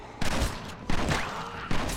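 Three loud, close gunshots ring out about three-quarters of a second apart in Red Dead Redemption Undead Nightmare, each leaving a short booming tail over steady game ambience.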